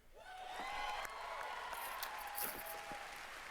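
A crowd applauds at the Bethesda E3 2019 conference after a Doom Eternal segment. The clapping and cheering form a steady, fairly distant wash under sustained musical tones.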